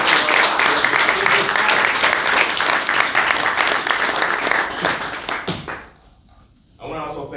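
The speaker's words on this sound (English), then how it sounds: "Let's have a round of applause for them." An audience applauds students from Bishop O'Dowd with dense, steady clapping that fades out near the end, followed by a short pause and then a voice starting to speak.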